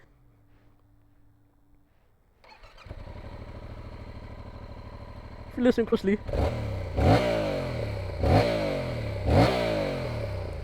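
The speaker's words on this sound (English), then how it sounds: "listen to that Yamaha CP2 engine scream" Yamaha XSR 700 with the CP2 twin engine and stock exhaust, idling nearby and then blipped through several sharp, loud revs that rise and fall, with someone talking over the start.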